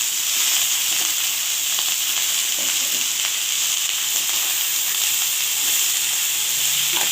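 Chickpeas and shredded cabbage frying in a pan of hot oil with bay leaf, dried chilli and fried potato, giving a loud, steady, close-up sizzle and hiss that holds without pause and carries no talking.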